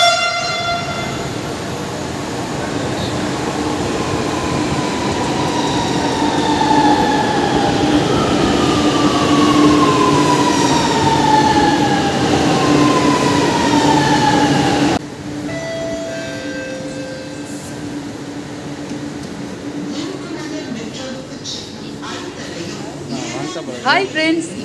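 A Chennai Metro train rumbles and whines as it runs, pitch sliding upward with acceleration, with a horn-like tone and a voice talking over it later.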